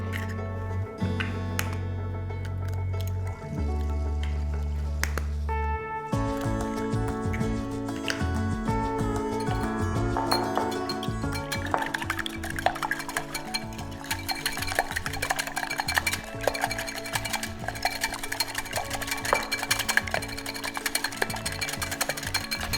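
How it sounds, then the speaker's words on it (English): Three eggs whisked in a bowl for a farmhouse Thanksgiving pudding, a rapid, steady ticking of the whisk against the bowl, close and clear, with a few heavier knocks at the start and no talk. "Now I'm going to whisk 3 eggs to go into my pudding."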